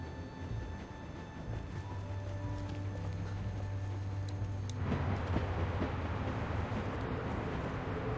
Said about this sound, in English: I'm stopping the train.